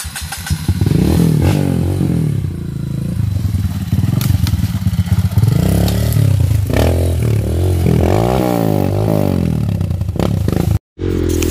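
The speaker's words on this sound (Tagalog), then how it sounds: "Medyo humahagok-hagok na po siya at nawawala na tuloy ng kapang yung motor kasi nawawala po sa tono." Dirt motorcycle with an out-of-tune carburetor labouring up a steep old logging road trail, its engine loud and close, revving unevenly and sputtering, with scraping and clattering from the rough track throughout.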